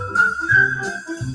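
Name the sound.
whistling in a radio show jingle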